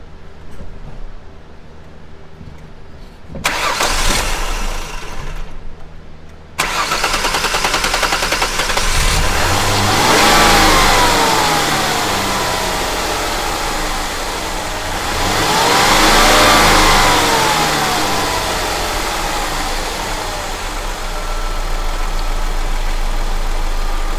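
A Ford Escape with a high-idle fault cranks and starts after a brief silence, then holds a loud, steady engine drone that swells in two broad revving surges before settling back.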